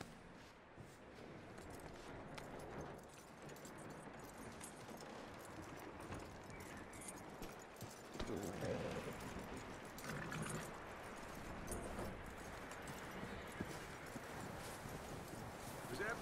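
A horse's hooves clip-clop steadily under a dense, noisy backdrop, the footfalls blending into continuous rumble while a voice talks over them.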